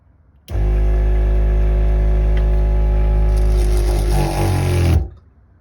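A water pump mounted in a Sprinter van buzzes on loudly and steadily for about four and a half seconds as it pressurizes the faucet line, then cuts off abruptly.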